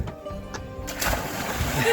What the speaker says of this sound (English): She jumped into that frigid water first.